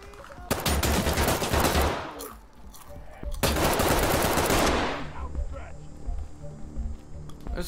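Bursts of loud automatic gunfire fill the Ready or Not police tactical shooter game in two long volleys, with players talking over and between the shots.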